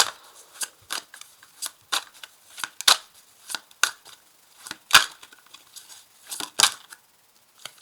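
Tarot cards being shuffled and handled, giving a string of crisp, papery riffles and snaps at an irregular rhythm, close and fairly loud with no talking.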